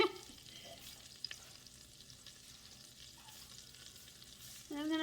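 Vegetables frying in a pan as the base for a roux, giving a steady, faint hiss and sizzle with a brief clink, swelling louder near the end.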